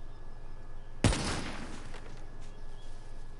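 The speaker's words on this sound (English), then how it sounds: "I just want to shoot off mannequins' heads" A single sharp gunshot in a video game, fired at mannequins' heads, cracks out loud and close above a quiet background hum, leaving a short echoing tail that fades over a second or two.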